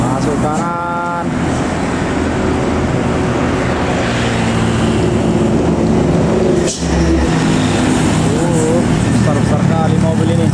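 A Sumatran Super Primer sleeper intercity bus running from Medan toward Pekanbaru pulls onto the road with a loud, broad engine roar and rushing road and wind noise, while people talk over it and a horn sounds briefly.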